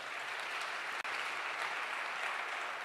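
A church congregation applauding, sustained even clapping at moderate distance with one brief dropout near the middle.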